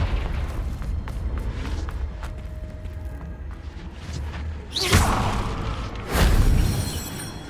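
A Confringo fire-spell blast in the Hogwarts Legacy video game, two loud booming bursts with a whoosh landing a second or so apart near the end, over a steady low game rumble.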